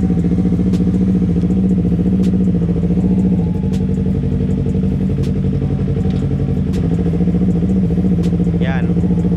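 A big motorcycle running in second gear, a steady, loud mid-pitched engine drone with a continuous throb and light clatter, heard close throughout while a person talks over it.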